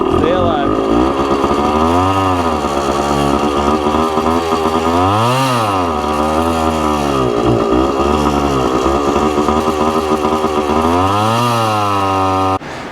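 A Suzuki TC-90 motorcycle engine runs poorly, loud and close, its revs surging and sagging in repeated uneven swells and stumbling as if about to die, with a voice briefly audible beneath it.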